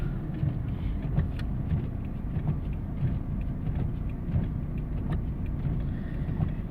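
A car passing on a road, heard from inside a vehicle as a steady, fairly loud low engine and road rumble that runs throughout with no talk.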